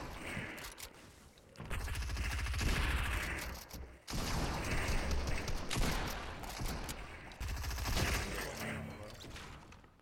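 Sustained bursts of rapid gunfire in the video game Fortnite during a squad match, dense and loud with brief gaps between volleys, voices mixed in underneath.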